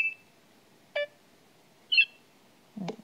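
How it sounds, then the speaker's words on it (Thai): A LINE app notification sound on an Android phone: four short electronic beeps and chirps spaced about a second apart, crisp and isolated against near silence. "เปลี่ยนเสียงแจ้งเตือนได้นี ่มีเสียงให้เลือกเยอะแยะมากมายเลยนะคะ"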